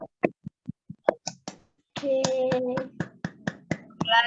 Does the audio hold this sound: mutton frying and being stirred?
no